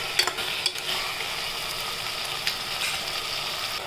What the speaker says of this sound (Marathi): आपण छान त्याला परतून घेऊया।